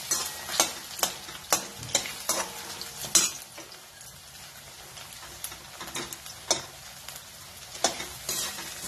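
Finely cubed raw potato roasting in a pan for sabudana khichdi, with a soft continuous sizzle and a quick series of sharp spatula clinks and scrapes that come in bursts and then ease off.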